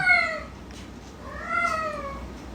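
A cat in heat meows in two long, drawn-out, wavering calls separated by a short pause, heard up close over a faint steady background hum.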